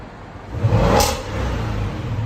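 An Audi S8 with a 4.0L V8 revs once, a single rising and falling surge of engine and exhaust roar close by, then settles back to a steady idle rumble.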